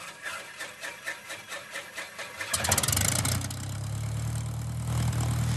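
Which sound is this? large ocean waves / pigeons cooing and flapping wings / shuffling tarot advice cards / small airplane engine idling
small airplane engine idling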